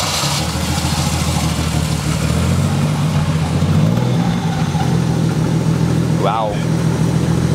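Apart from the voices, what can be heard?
car engine idling and rolling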